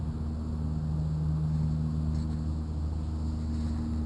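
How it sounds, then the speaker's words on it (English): Steady outdoor breeze buffeting the microphone near an old blockhouse site, a continuous low rumbling roar with a faint hum running through it and no breaks across the few seconds. "I hope you can hear me over the wind. It's kind of breezy today."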